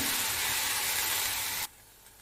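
Okra (lady's finger) frying in a pan for a Tamil poriyal makes a loud, broad, close hiss, like a sizzle, that cuts off sharply after about one and a half seconds.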